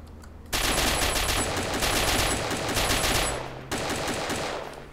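Rapid automatic gunfire rattles in sustained bursts in the survival video game DayZ, close and loud, with a brief gap before another volley.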